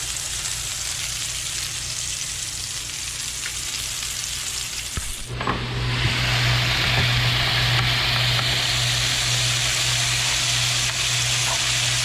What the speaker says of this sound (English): Ribeye, hand seared in bear lard.